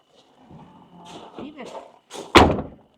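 Door of a 2024 Entegra Ethos 20T camper van swinging shut with one loud, close slam, preceded by soft handling and latch noises while a person talks nearby.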